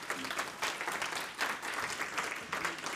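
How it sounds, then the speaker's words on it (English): Steady applause from a crowd, many hands clapping in a dense, continuous patter with slight swells, moderately loud and without voices. "Give this group a round of applause"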